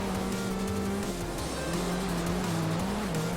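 In the Assetto Corsa racing game, a race car's engine drones steadily with shifting pitch as it drives a section of track, with faint tyre noise and no talk over it.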